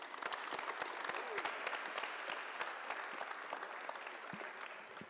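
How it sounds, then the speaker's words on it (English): A group at a basketball clinic claps together, steady dense applause from a small nearby crowd that holds at an even level throughout without talking. "So let's give everyone a big hand."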